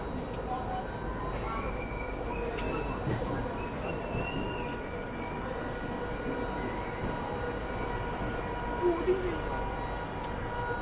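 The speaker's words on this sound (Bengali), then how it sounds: "আমাদের ট্রেন এখন ছেড়ে দিয়েছে" The Sealdah–Puri Duronto Express pulls away with a steady low rumble and rolling hum of wheels and carriages, heard from inside the train with faint background voices.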